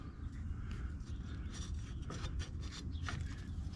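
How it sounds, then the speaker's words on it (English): On a Polaris Ranger, a screwdriver pries brake parts apart with close, scraping metal rubs and short grinding strokes in an uneven rhythm, moderately quiet, with no talking. "So I'm just taking a screwdriver and prying them apart."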